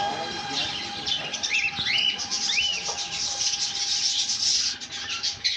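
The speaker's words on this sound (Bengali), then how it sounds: "এখানে লুটিনো ককটেল আছে।" Lutino cockatiels in a bird shop chirp and whistle in a dense, continuous chorus, with a few clear rising calls standing out close by over a steady background hum.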